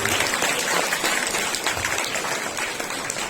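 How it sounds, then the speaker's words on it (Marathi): A crowd applauding at a Women's Day celebration, dense clapping that holds steady throughout and tapers slightly toward the end. "जोरदार टाळ्या वाजवून आम्ही त्यांचं अभिनंदन करूया"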